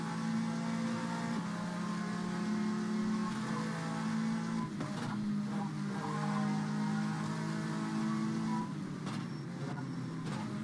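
Porsche race car engine in an onboard camera view from a racing video game, a steady loud sustained drone with shifting tonal pitch across the whole stretch, no talk.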